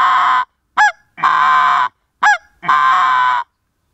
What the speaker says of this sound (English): you'll make all the different sounds like the Greylag Goose says